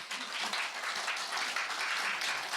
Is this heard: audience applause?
yes